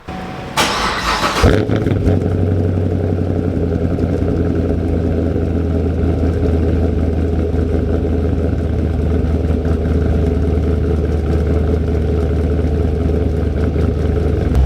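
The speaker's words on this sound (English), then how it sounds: "So let's get a cold start" A cammed Chevrolet Camaro Z/28 cold starts with a loud cranking burst, then settles into a heavy, choppy idle that rumbles steadily and close for the rest of the clip.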